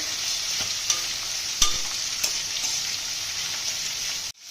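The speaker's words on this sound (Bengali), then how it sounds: "তরকারিটা একটু ভেজে নিই।" Onions and fish bladders of rohu fish fry in a wok as curry, a bright steady hiss with a few sharp spatula knocks against the pan, up close, no voices.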